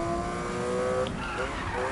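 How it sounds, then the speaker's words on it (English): A Porsche GT3 in a racing video game drifts with a sustained tire squeal over the steady engine drone, loud and continuous. "Hold on, let me drift right here."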